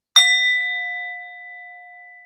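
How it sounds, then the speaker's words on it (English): A single bell struck once, a bright metallic ding that rings out cleanly and decays slowly over about two seconds in an otherwise quiet room. "So we need the bell for this."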